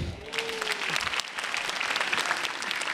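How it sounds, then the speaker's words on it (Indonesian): Steady applause from an audience, dense clapping continuing throughout at an even level. "Boleh tepuk tangan sekali lagi buat Rizky Teguh."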